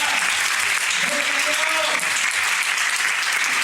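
Church congregation breaks into steady, loud applause that fills the whole moment, a continuous wash of clapping from a crowd.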